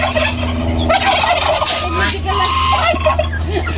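Local turkeys gobble repeatedly in a noisy farmyard, several birds calling over one another with warbling, throaty bursts and a steady background hum.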